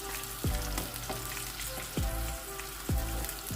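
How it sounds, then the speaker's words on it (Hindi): Lahori-style fish pieces frying in hot oil give a steady, close sizzle, broken by three deep thuds or knocks spaced about a second and a half apart, with no talk. "इसी तरह ही हम सारी फ़िश को फ्राई कर लेंगे"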